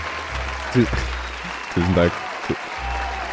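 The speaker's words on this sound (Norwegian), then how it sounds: "det synes jeg nesten fortjener av en applaus" Applause washes steadily in the background while someone speaks briefly over it, with a low steady hum underneath throughout.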